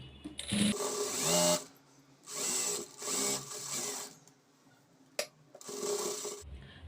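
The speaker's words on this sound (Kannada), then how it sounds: "ಈ ಥರ ಸ್ಟಿಚ್ ಮಾಡಿಕೊಂಡು ಪಕ್ಕದಲ್ಲಿ ಇನ್ನೂ ಒಂದು 3 ಸ್ಟಿಚ್ನ ಹಾಕ್ಕೋಬೇಕು" A domestic sewing machine stitches a lined blouse in several short runs of whirring, separated by pauses, with a small click between bursts, close and fairly loud.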